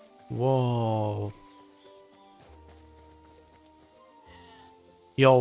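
A sheep in the video game Hytale lets out one clear, loud bleat, followed by quiet game ambience and the start of another bleat at the very end.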